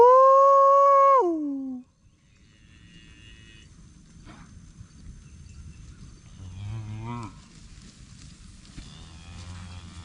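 A heifer out in the timber gives one loud, close moo. After a quiet stretch, fainter, more distant lows and calls from other cattle follow in the woods.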